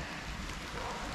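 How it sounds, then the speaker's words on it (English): Steady rain falls over a humid, warm subtropical food forest of fruit trees, a dense continuous patter and hiss with no other clear sounds. "it's raining"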